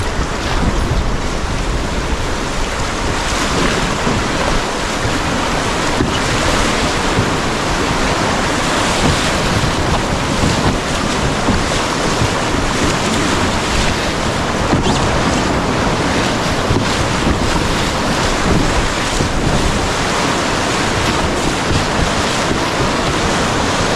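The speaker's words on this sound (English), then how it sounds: "I'm approaching about a kilometer-long rapid that flows into the ocean" A kilometer-long river rapid pouring into the ocean roars as a loud, continuous broadband rush of churning water, unbroken throughout, with heavy wind buffeting the microphone.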